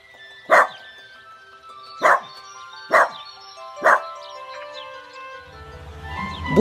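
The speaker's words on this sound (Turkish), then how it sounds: "Biri mi havlıyor?" Four sharp, evenly spaced barks from a cartoon dog near its garden doghouse ring out alone and close, followed by a soft rising background sound.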